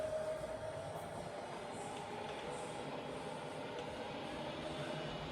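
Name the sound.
Bridgeport milling machine running at 70 RPM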